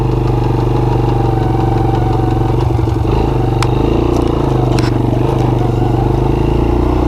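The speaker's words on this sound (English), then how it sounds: "I'm not sure whose two-cycle engine they put on them" A Honda FourTrax TRX90 ATV's small two-stroke engine runs loud and close, with a steady buzzing drone, mechanical clatter and a brief rough shift around the middle.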